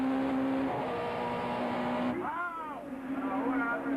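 Touring car racing at Killarney, with a Toyota Camry and an Opel Astra roaring through the circuit; a steady engine drone rises into a sharp pitch sweep as a car passes close, while a commentator talks over it.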